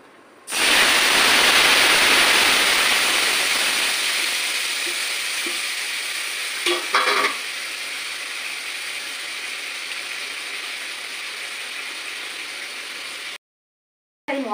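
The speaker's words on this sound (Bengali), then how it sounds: "ভালো করে মশলাটা ফোড়নটা ভালো করে ভেজে নেবো" Whole spices including nutmeg fry for a jackfruit kofta, opening with a loud hiss as they hit the oil that slowly fades to a steady sizzle, broken by brief clinks midway.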